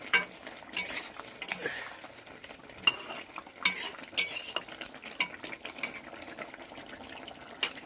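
Spoon scraping and clinking against a pot while green aloo dum, a Bengali potato curry, is stirred, with repeated irregular taps and rattles over a soft background hiss.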